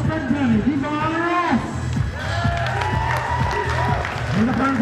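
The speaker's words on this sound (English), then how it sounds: "let's see a big round of applause for Fred Penny" At a high school wrestling senior night, a gym crowd applauds a wrestler with a steady wash of clapping and cheering, while an amplified announcer's voice talks over it.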